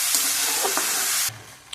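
Chopped tomato drops into frying okra (bhendi) masala, producing a bright, loud sizzling burst that cuts off abruptly after about a second, leaving a quieter simmer.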